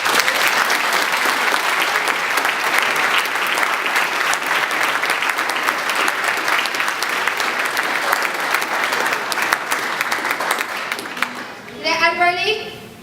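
Sustained applause from an audience at a military squadron's annual presentation evening in Woolwich Barracks, steady and dense for most of the stretch, thinning near the end as a short whistle or voice cuts through.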